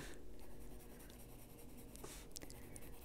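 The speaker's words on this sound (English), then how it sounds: "sometimes just feel like doing a whole entire background in pencil" A pencil colors in a whole background on paper with steady, soft scratching strokes, faint and close, plus a few brighter scrapes near the end.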